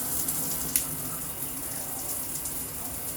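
Water sprays steadily and evenly from both rings of a Delta Arvo In2ition dual shower head at once, a continuous close hiss with no voices over it.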